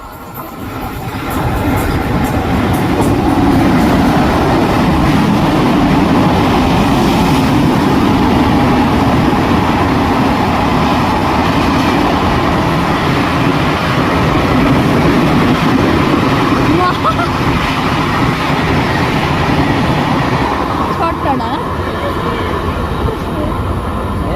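An express train rushes through a small railway station, a loud continuous roar and rumble of wheels and carriages held close for over twenty seconds, fading slightly near the end.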